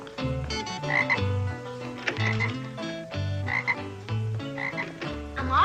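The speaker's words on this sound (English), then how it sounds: "I feel silly kissing a frog" Repeated deep croaks from a frog kept in a cage, loud and close in a rhythmic series of pulses with no voices over them.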